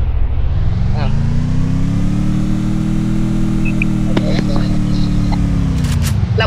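A pickup truck engine in the game Free Fire drones loudly and continuously as it is driven, its pitch swelling and then easing back, with a few faint clicks on top.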